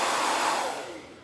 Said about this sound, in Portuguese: quando eu tô com pressa pra secar o rostinho das bonecas, eu utilizo o secador